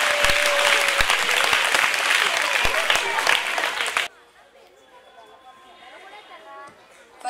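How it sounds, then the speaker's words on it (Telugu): A room of girl students at a school awareness session claps loudly together for about four seconds. The applause then stops abruptly, leaving quiet room noise with faint murmuring. "క్లాప్స్ కొట్టండి, అందరూ ఎంకరేజ్ చేయండి మీ సిస్టర్స్కి"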